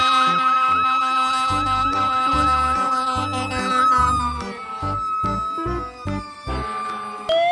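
A red toy fire truck gives off a wailing electronic siren that rises and falls steadily, played loudly over a bright, busy toy jingle with a pulsing beat.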